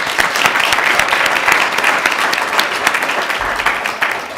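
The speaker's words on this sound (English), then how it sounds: "Give him a hand for that" Applause at a school board of education meeting for a student track athlete, a steady round of many hands clapping at moderate loudness throughout the short stretch.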